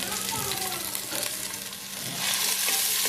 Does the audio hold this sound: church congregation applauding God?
no